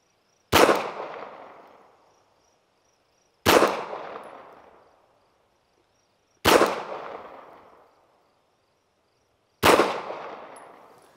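Four pistol shots fired at an outdoor range during a one-hole accuracy drill, each a sharp loud crack with a decaying echo, spaced about three seconds apart and alone.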